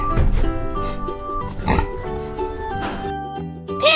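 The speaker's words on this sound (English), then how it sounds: "Pig!" A pig grunts and oinks in a quick series of nasal snorts and squeals, loud and close, with a brief rising squeal near the end.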